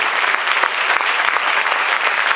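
An audience claps steadily throughout, a dense, continuous wash of applause from a sizable crowd.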